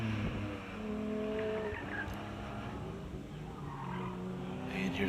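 A Tesla's tires squeal hard through a turn at an autocross event, a sustained, wavering screech over the car's running noise that lasts the whole stretch.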